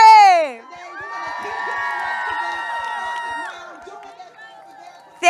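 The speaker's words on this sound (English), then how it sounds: "So one more round of applause." Outdoor crowd at a morning rally outside the Supreme Court erupts in loud whoops, shouts and cheering, rising voices sustaining for a few seconds before fading.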